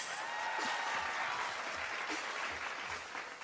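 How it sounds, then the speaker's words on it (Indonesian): A crowd claps together in a steady burst of applause that fades slightly toward the end. "Saya boleh minta tepuk tangan dong untuk Ernest."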